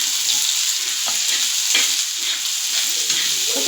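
Chopped tomatoes hit a hot frying pan for egg bhurji, producing a loud, continuous sizzle with sputtering bursts and a few stirring scrapes, heard up close with no talking.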